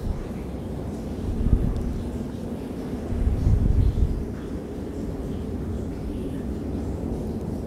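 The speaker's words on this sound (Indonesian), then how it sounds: "Angin kencang sekali yang ini selatan ini." Strong southerly wind roars at sea around the fishing boat KM Cantika Lestari, a steady low rumble with gusts swelling louder near the start and middle, alone without talk.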